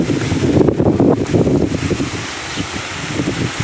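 Strong wind gusts buffet the microphone at a monastery in a Karen village in a mountain valley of Mae Hong Son, a loud, continuous roar that eases slightly toward the end.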